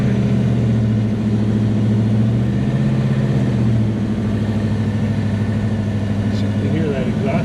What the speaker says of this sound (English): You hear that exhaust system, can't you?